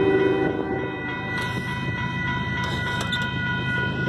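Union Pacific 7655 freight train passing through rural Saint Elmo, Illinois, with a sustained horn blast ringing over the steady rumble and clatter of rolling cars, heard from fairly close by.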